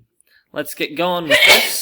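A person in a classroom gives one short, sharp sneeze right after a brief sentence of speech.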